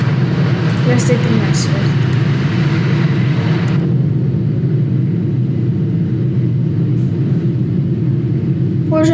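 Boeing 777-300ER airliner engines run in the video game Project Flight as a steady, loud, low rumble. A voice talks over the engine drone throughout, with a brief hiss fading out partway.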